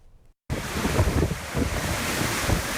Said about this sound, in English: The power of Hurricane Harvey, the Category 4 storm roaring on shore in the dark of night